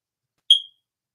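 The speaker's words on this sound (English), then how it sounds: "There's an annoying beep in the background. I'm very sorry about the smoke detector being annoying." A smoke detector chirps once in the background, a single short high-pitched beep in an otherwise quiet indoor room.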